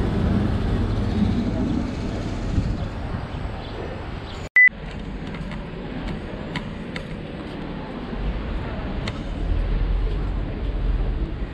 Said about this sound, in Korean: 부다페스트 하면은 이 노란 색깔 트램이 굉장히 시그니처잖아요